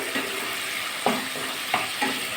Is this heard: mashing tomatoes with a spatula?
yes